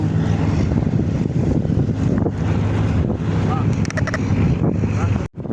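Steady wind roars and buffets the microphone on a boat out on the water near Zamboanga City, a constant broadband rush with waves beneath and brief faint voices, cutting out abruptly near the end.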